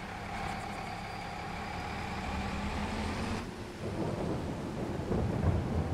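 Rain falls steadily with a low rumble of thunder in Farming Simulator 22, while a vehicle engine idles underneath; the downpour thickens near the end.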